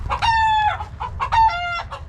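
Chickens cluck and a rooster crows twice in close succession, loud and near, with a faint low background rumble, heard along a bike lane on the route from Nami to Jaraseom Island.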